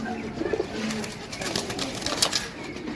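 Pigeons coo softly and repeatedly nearby, their low throaty calls overlapping in a steady rhythm amid light background noise.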